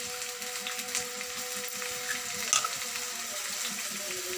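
Onion and green chili pieces frying in a few spoons of oil for a brinjal and mango curry: a soft, steady sizzle with faint crackles and a brief stir near the middle, no talk.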